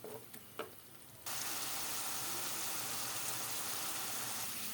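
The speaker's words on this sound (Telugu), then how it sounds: "టమాటా ప్యూరీని పచ్చివాసన పోయే వరకు వేయించుకోవాలి" Tomato puree frying in a pan with cooked onions for bread masala: a couple of faint clatters, then a loud, steady broadband sizzle starts abruptly and holds to the end.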